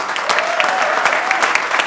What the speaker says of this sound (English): Now I got a standing ovation.